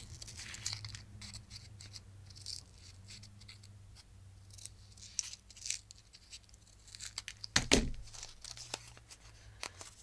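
Scissors snip through scrapbook paper for a craft project, a series of quiet close cuts and paper rustles with a louder crisp snip near the end.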